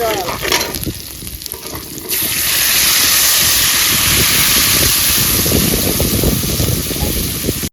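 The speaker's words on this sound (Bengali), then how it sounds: "তেল গরম হয়ে গেছে জিরে দিয়ে দেব তারপর যাবে লঙ্কা" Cumin and chili frying in hot oil, a loud, steady sizzle that jumps up sharply after a couple of seconds and then holds dense and crackling, with faint clatter early on.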